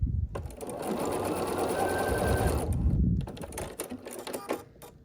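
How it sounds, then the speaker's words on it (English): A sewing machine runs a short stitch length while piecing small quilt pieces, a close, rapid whirring burst for about three seconds followed by scattered clicks and handling noises. "I'm piecing these really small pieces, I like having that stitch length smaller"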